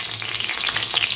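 Green chillies and potatoes frying in hot oil, a brief, dense crackling sizzle with small pops.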